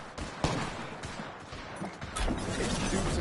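Gunfire in a squad-based shooter game, rapid bursts of automatic weapons fire crackling over a busy battle din, with a sharp crack near the start and a heavier surge of shots toward the end.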